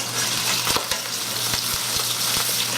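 Steaks sear in a hot frying pan with a loud, steady close-up sizzle and a few soft clicks of movement, with no talking.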